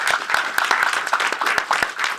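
An audience at a French legal workshop on naturalization gives a lively round of applause, dense close clapping with distinct sharp claps throughout.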